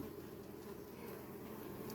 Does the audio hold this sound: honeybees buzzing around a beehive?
yes